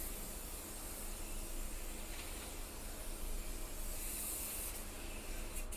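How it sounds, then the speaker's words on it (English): Oil prep spray is misted onto pizza dough trays in a steady, continuous hiss that runs for several seconds at close range with no talking. "This is prep spray."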